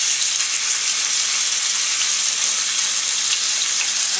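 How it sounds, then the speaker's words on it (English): Steady, loud sizzling of pasta frying in hot oil and butter, a continuous crackling hiss with no talking. "You hear that sizzle?"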